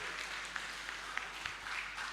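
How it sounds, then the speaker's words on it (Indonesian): A steady wash of applause from an audience at a religious quiz competition rises and falls for the whole stretch, moderately distant and even, with a few sharper claps standing out. "Tepuk tangan untuk Regu A."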